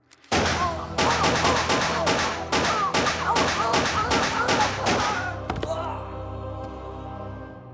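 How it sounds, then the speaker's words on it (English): A rapid volley of about a dozen loud gunshots rings out close by in a video game, followed by a lingering ringing tail. "How could you shoot John?"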